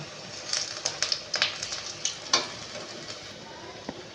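Eggplant rolls frying in hot oil are lifted out, a soft steady sizzle broken by sharp clinks and scrapes of utensils against the pan.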